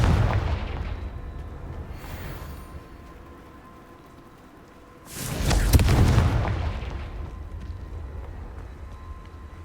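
Two Confringo fire-spell blasts in Hogwarts Legacy: a muffled boom at the start fading away, then a louder, sharper explosion about five seconds later with a rumbling tail, no talking.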